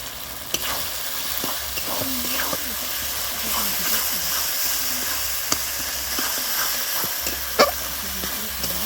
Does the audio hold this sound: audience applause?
no